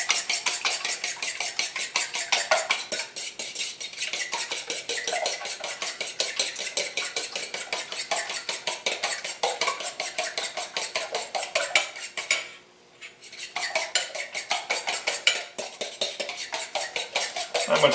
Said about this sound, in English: Only going to need to use a little fork whisk in here.